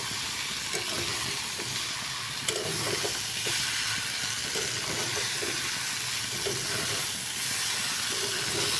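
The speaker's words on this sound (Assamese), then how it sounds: "তো এয়া মই কঁঠালখিনি ধুনীয়াকৈ ভাজি লৈছোঁ।" Jackfruit pieces fry in a hot pan, a steady close sizzle and hiss running the whole time with small pops and crackles scattered through it, no voices over it.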